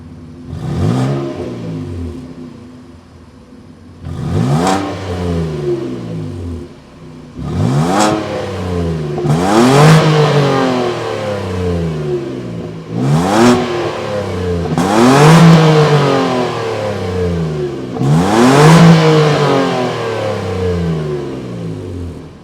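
A 2025 Nissan Frontier's 3.8-liter naturally aspirated V6 starts and idles, then revs five times in loud, close bursts that climb and fall back, with short pauses between.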